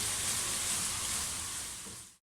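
Ginger garlic paste frying in a pan for mutton korma, a bright, close, loud sizzle that holds steady for about two seconds, then cuts off sharply.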